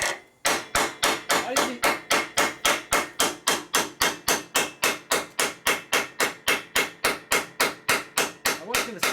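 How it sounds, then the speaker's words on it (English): Steady, loud hammer blows, roughly three per second, strike a part of a 1965 Harley-Davidson panhead FLH 74ci motorcycle during a motor rebuild, with a brief spoken word near the start. "I couldn't hear over the beating noise."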